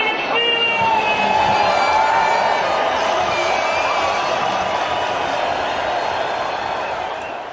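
Dense crowd noise from a packed cruise ship promenade as a midnight show approaches, steady broad murmur with cheers and whoops rising out of it, fading slightly at the end; no clear single voice stands out.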